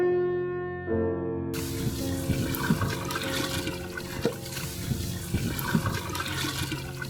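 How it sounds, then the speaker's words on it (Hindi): Spring water runs steadily at the Manghopir crocodile shrine in Karachi, a continuous near rush and splash of flowing water with no talk. "यहाँ पे पानी जो बह रहा है"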